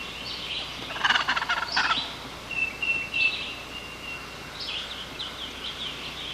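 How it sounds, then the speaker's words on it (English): Repeated gobbling from a wild turkey hen outdoors, loud rattling bursts early on followed by softer, more distant gobbles and calls, with no talking. "A hen that strutted and gobbled."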